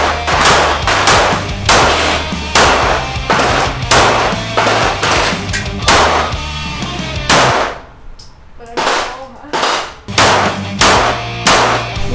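A very powerful pistol fires a series of loud, sharp shots close by, each crack followed by a ringing decay, with a steady low hum between shots and a short quiet pause before the final rounds.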